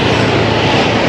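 Honda Beat scooter with sliding rollers in its pulley, its engine straining and revving on a steep uphill test ride, a loud continuous roar mixed with rushing wind, close to the microphone.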